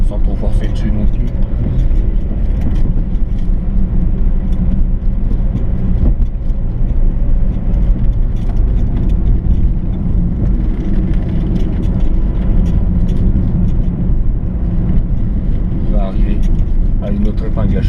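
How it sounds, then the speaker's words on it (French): A car descending the hairpin bends of the Col de Romme mountain road above Cluses on engine braking, producing a constant, close, heavy rumble that stays even throughout. "Faire simplement jouer au maximum son frein moteur, sans trop forcer dessus non plus."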